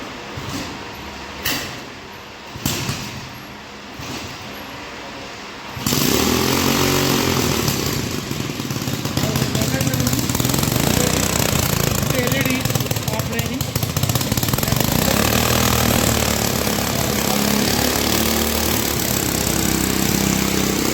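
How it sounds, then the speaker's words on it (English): Small petrol IC engine fed from a 2-litre nylon tank, part of an exhaust-gas air brake rig, starts and then runs steadily and loudly, with a few short bursts before it catches. "Then you have to start the engine."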